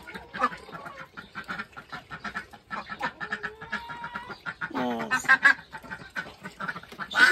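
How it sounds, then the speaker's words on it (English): A group of ducks by a duck house gives a busy run of quacks and honks, close and fairly loud in rapid irregular bursts, with a short spoken word among them. "She's a very big duck, that one."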